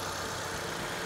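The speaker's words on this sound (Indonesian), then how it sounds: "Dan ini suara mesinnya" A 2000 cc four-cylinder engine in a 2010 Nissan Serena C24 idling, a steady smooth hum heard close up without voices.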